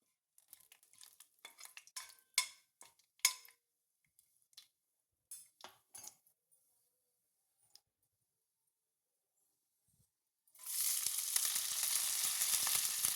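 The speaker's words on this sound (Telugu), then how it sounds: "అలాగే పుదీనా కరివేపాకు ఒక రెండు గ్రీన్ చిల్లీ ఇవన్నీ ఒకసారి బాగా ఫ్రై చేసుకున్నామండి" Sliced onion, mint, curry leaves and green chillies in hot oil for brinjal biryani, heard first as scattered clinks and scrapes of a spoon in the pan, then a sudden loud, steady sizzle that keeps on to the end.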